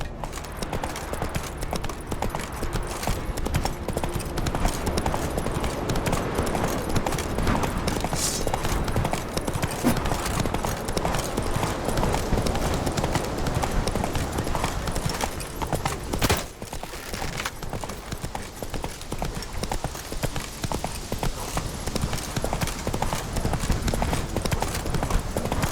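Roach the horse gallops through The Witcher 3 video game, a steady clip-clop of hooves running continuously over a dense, loud game soundscape with a brief dip partway through.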